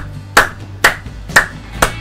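Four sharp hand claps, evenly spaced about half a second apart, close and loud against a quiet background.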